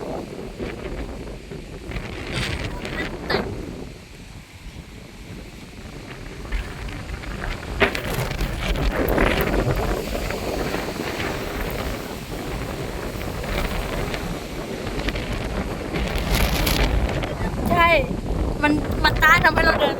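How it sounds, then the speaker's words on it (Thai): Strong wind buffets the microphone outdoors at a temple in Ang Thong province, a loud, continuous rumbling roar that swells and gusts throughout, with brief voices and some sharper noises near the end. "ให้ทุกคนได้ฟังเสียงลมชัดๆเลยค่ะ"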